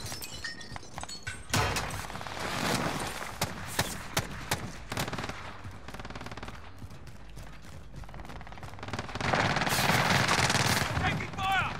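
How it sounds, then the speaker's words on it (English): Gunfire in Call of Duty: Modern Warfare, with rapid automatic bursts and single shots crackling loudly through most of the stretch and a heavier volley near the end, while players talk over the combat. "Taking fire!"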